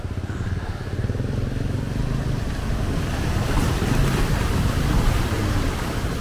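A little Suzuki Jimny wades steadily and slowly through deep water, a continuous loud rush of churning water and engine rumble that swells slightly midway, with wind buffeting the microphone throughout.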